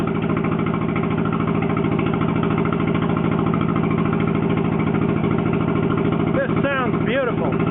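Engine of a John Deere crawler loader with blown steering packs running at a steady, loud, close idle with an even pulsing throb, then briefly revving up and down near the end.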